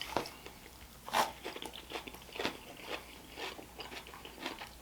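Someone chews well-cooked steak at a Peruvian restaurant, close and quiet. Soft crunching bites and chewing come in irregular bursts, with no talking.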